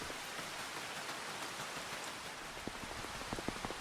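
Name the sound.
rain in video game Farming Simulator 25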